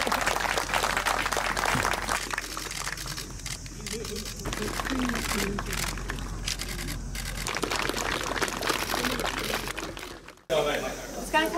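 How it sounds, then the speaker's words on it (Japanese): A crowd applauds the winner at the 2018 Maruhan Cup Taiheiyo Club Senior golf tournament, sustained clapping of moderate loudness with people talking over it, ending abruptly near the close. "改めて大きな拍手を送ってください。"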